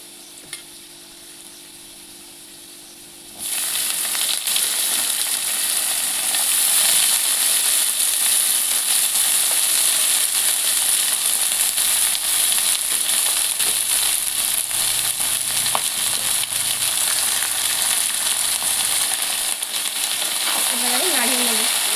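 Cabbage hits hot oil with fried potatoes, bursting into a loud, steady sizzle that continues without a break, with occasional stirring scrapes in a Bengali vegetarian cabbage dish.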